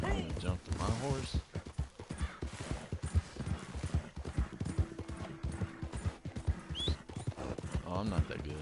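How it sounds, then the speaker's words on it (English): Horse hooves clip-clop at a gallop in Red Dead Redemption 2, a rapid steady rhythm close by, with game sounds and a brief whinny, while a player talks over it. "I'm gonna jump to my horse."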